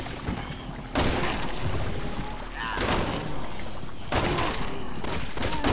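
Gunfire from Leon's campaign in Resident Evil 6 on PS4 comes in several sharp bursts spaced a second or two apart, with crackling impacts layered over a dense game soundscape.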